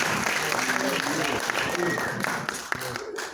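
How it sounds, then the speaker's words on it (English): An audience claps for Dr. Lamar Price, a full crowd applause filling the room while voices and tonal sounds carry underneath, the clapping thinning a little in the final second. "Can you clap for Dr. Lamar Price?"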